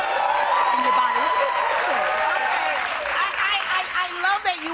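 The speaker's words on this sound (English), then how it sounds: "You all are clapping right now" Studio audience applauding on a daytime talk show, steady dense clapping filling the whole stretch at close range, with speech-like tones threaded through it.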